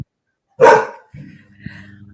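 A single loud dog bark close by, followed by a low rumbling growl or whine.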